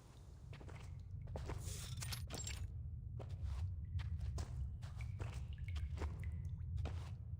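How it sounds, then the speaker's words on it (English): Soft footsteps pad through a tunnel in the video game Reverse: 1999, a steady walking rhythm over a low rumbling ambience with faint drips now and then, no talking. "Only the sounds of dripping water and soft footsteps can be heard in the tunnel."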